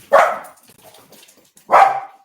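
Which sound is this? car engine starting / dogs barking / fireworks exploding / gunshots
dogs barking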